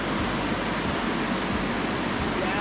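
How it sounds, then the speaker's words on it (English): A small waterfall in Yellowstone gives off a steady, even rush of falling water, continuous and close with no talk over it. "this poor little waterfall probably doesn't get enough credit."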